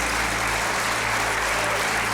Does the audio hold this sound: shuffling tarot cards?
no